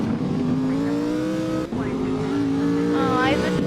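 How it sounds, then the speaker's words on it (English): A car drifting in a racing video game, its engine droning steadily with a rising rev and a squealing tire toward the end, while someone talks over it. "By the way, this drifts so much."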